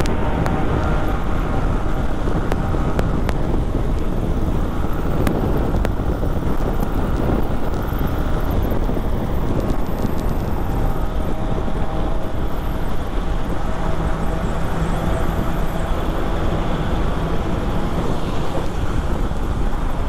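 An off-road vehicle engine drones loudly and continuously inside a tunnel, with a boomy, reverberant rumble and wind noise throughout.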